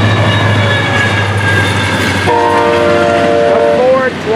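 FEC 920 freight train, a string of empties led by a 422 locomotive, rumbling past with a steady roar, then a loud sustained multi-tone horn blast sounding close.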